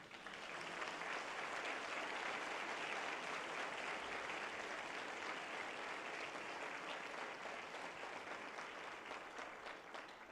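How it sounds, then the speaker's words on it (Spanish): Dense, steady applause from a church congregation fills the space for about ten seconds, a broad wash of many hands clapping at once without letup. "¿Cuánto le da un aplauso al Señor?"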